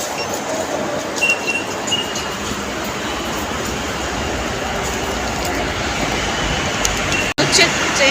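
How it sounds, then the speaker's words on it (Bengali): A metro train arrives at a station with a continuous broad rumble and rushing noise, faint high squeals over it, and a sharp brief dropout near the end before the noise resumes. "ট্রেনটা জাস্ট ঢুকলো, মানে মেট্রোটা জাস্ট ঢুকলো"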